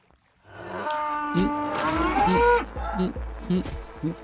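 A cow in the horror video game The Butchery gives a long, loud drawn-out moo, followed by a series of short rhythmic thuds.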